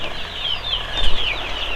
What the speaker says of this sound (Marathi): हे कावेरी जातीचे पिल्ले